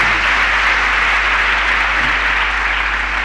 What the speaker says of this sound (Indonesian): jangan tepuk tangan dulu.